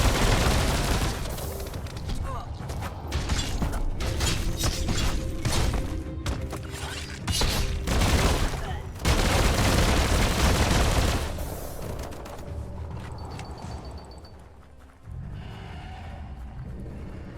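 Video-game gunfire in Biomutant comes as dense, rapid volleys of shots with shattering and booming impacts, loud and sustained for several seconds before thinning to sparser bursts and a lower rumble.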